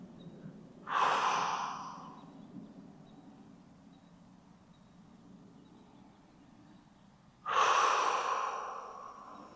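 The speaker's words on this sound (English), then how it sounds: "Breathing deeply, 30 seconds." Two deep, loud breaths, heard alone with a quiet pause between them, taken while holding a shoulder stretch in a guided stretching routine.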